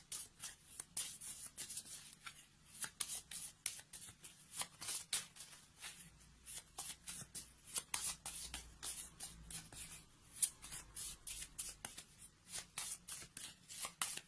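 Tarot cards are shuffled over and over in a quiet room, a close, rapid run of soft riffling and flicking strokes with short pauses in between.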